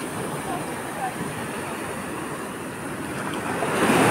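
Ocean surf rolls onto a beach in Sri Lanka, a broad continuous wash of breaking water with wind buffeting the microphone, the roar swelling louder toward the end as a wave comes in.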